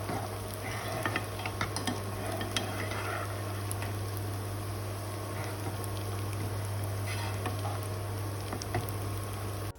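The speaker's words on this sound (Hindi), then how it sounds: "प्याज और लहसुन को करीब 2 से 3 मिनट के लिए सौते करेंगे till the time they become little soft" Onion and garlic sautéing in a pan for a chicken stew, with a soft, steady sizzle and occasional stirring scrapes running continuously at moderate level under a constant low hum.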